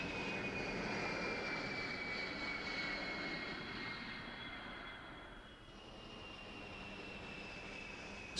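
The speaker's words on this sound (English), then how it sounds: "Six Air Force C-141 Starlifters fly in close formation" Six Air Force C-141 Starlifter transport planes flying in close formation make a continuous, steady engine drone and roar that holds at an even, moderately loud level throughout, with no voices.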